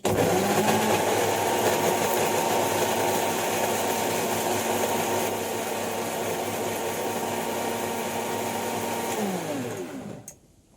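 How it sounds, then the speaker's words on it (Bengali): An electric mixer grinder whirs loudly and steadily while grinding spices into a paste in a home kitchen, running alone for about ten seconds before switching off and winding down. "এখন পেস্ট করব মশলাটা, চলো দেখাই।"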